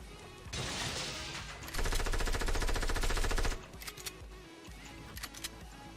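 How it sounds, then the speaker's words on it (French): Rapid automatic gunfire from an SMG in Fortnite Battle Royale, a short burst and then a longer sustained stream of shots, followed by scattered clicks and smaller impacts, fairly close with no talking. "Ça m'a tiré dessus."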